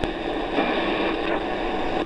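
Shortwave radio reception through a shoebox antenna: a continuous hissy broadcast signal with static, steady and fairly loud, with no talk over it.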